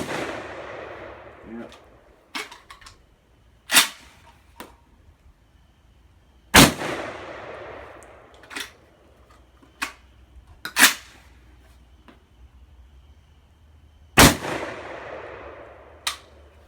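A DDI-12 shotgun fires shells outdoors, with several loud, sharp blasts spaced irregularly seconds apart, each trailing off in a short echo, and smaller clicks and handling noises in between.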